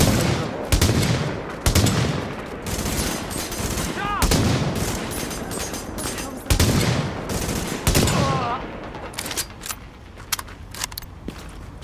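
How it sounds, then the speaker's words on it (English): Heavy gunfire in Tom Clancy's The Division, loud bursts of automatic shots and single cracks repeating close by, with some shouted voices mixed in. "Goddamn gunfire!"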